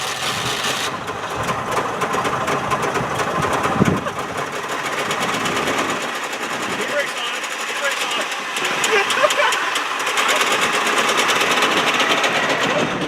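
A Trabant's small two-stroke engine runs on, a buzzy, rattling drone with a fast, sewing-machine-like chatter that stays steady and fairly close, with a brief knock near the start and the sound swelling slightly later.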